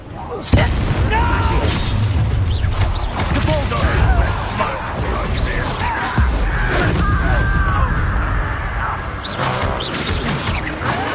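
A Confringo blasting spell goes off in the wizarding game Hogwarts Legacy with a sharp boom followed by crackling bursts and rumbling, amid dense battle sounds and character voices throughout.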